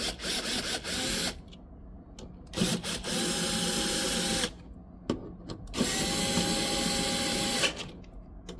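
A power drill drives screws during reassembly of a motor's stator and rotor, whining in several bursts: short stuttering pulses, then two longer sustained runs that each settle into a steady pitch before stopping, all close and loud.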